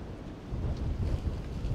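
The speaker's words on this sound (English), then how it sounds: "It's really windy today." Strong wind roars against the microphone in deep, rumbling gusts that build louder toward the end.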